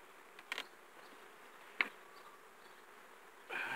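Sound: honey bees buzzing around beehives

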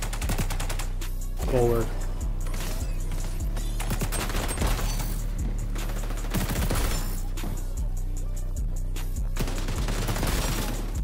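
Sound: gunfire in video game XDefiant

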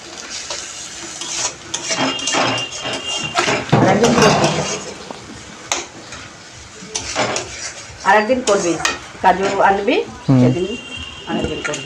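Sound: frying pulao rice with raisins in a pan

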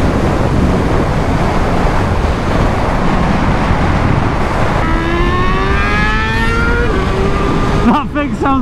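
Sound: superbike engine revving on the road

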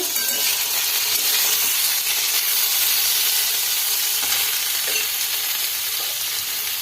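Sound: frying pointed gourd and potatoes in a pan

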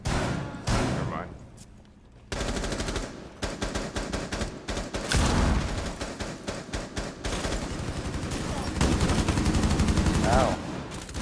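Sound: gunfire in Rainbow Six Siege video game

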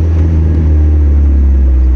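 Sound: manual Mazda Miata car engine while being driven

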